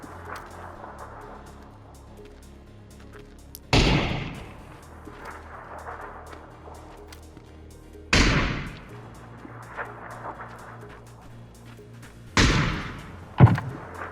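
Several loud, booming gunshots in the video game PUBG ring out a few seconds apart, each with a sharp attack and a short echoing tail over a low rumbling background.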